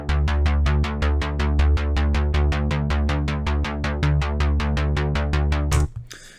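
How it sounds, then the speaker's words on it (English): Repeating synth bass patch built in Sylenth1, pulsing in a steady fast rhythm of identical plucky notes with deep low end, loud and alone, cutting off abruptly near the end. "today I'm going to be showing you how to create a bass that sounds like this."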